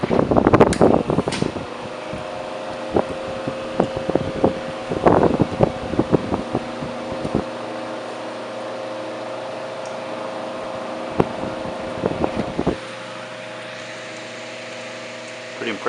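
A vintage art deco Cold Wave electric fan runs on its second speed, giving a steady close hum with tonal whine, broken by a few clicks and knocks early on before it settles into an even drone.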